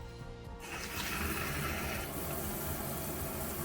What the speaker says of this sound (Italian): L'altro interruttore serve per far uscire l'acqua a cascata.